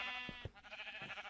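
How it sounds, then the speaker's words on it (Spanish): Sheep bleat in Minecraft near a cave, two short wavering cries at moderate distance with faint game ambience between them. "Uy, se escuchan ovejas"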